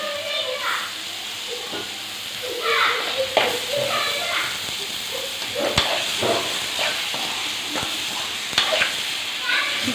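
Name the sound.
chicken sizzling as it is added to masala gravy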